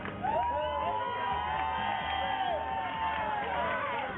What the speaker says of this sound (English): clap it up for her, man